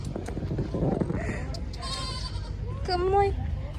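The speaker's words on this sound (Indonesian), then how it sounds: "Di sini ada kambing" Goats in a hot outdoor spot in Bima, West Nusa Tenggara, give a couple of quavering bleats, the clearest one near the end, over a constant hum of background voices and bustle.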